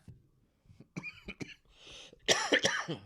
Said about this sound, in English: I just kind of live with this cough.